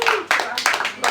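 Audience applause for a singer at a live outdoor concert in Varkaus harbour, a burst of several bright, sharp clapping swells, close and fairly loud, with no talking.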